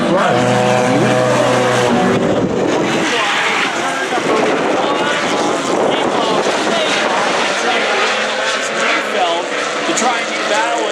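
Race cars roar around a short track in a Hornet A division race, engines loud and continuous as two cars battle for the lead through a dog leg, with a commentator talking over the noise.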